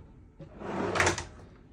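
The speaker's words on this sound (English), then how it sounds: "I made drawers in a school bus." A handmade wooden kitchen drawer in a converted school bus slides open or shut, a single close soft rumble that swells briefly in the middle and fades out, with no talking.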